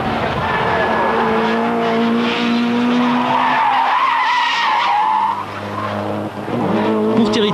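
A Procar race car in the 1998 Belgian series, its brakes failing, misses its braking at a chicane and skids with a long, loud tire squeal over a roaring engine, fading briefly before the engine noise returns.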